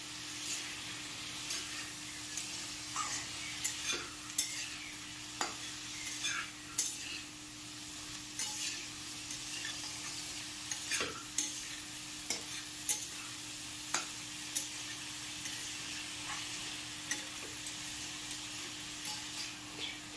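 Chana masala ingredients stirred in a pan, a spoon scraping and clinking against the metal in repeated irregular strokes over a steady low frying sizzle, close and alone with no voices.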